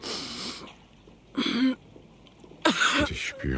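Deep, rough coughing in a German radio drama comes in several separate harsh bursts with throat clearing and wheezy breaths between them, close and fairly loud.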